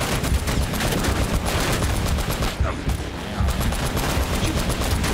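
Dense automatic gunfire rattles without pause in the Uncharted video game during a car chase, near and loud, with rapid overlapping shots and a brief lull midway.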